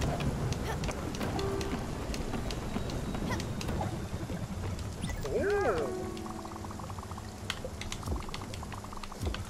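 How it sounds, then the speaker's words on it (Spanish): Storm rain in the video game Spiritfarer pours as a steady, dense patter throughout, with a brief rising and falling whistle-like tone partway through. "Ah, tormenta."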